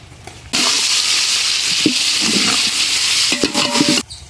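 Tomatoes hit a hot pan with onions for a village-style mushroom biryani, erupting into a loud, sudden sizzle that crackles and bubbles for several seconds before cutting off, with no talking.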